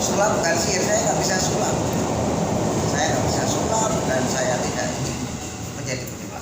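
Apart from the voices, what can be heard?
train passing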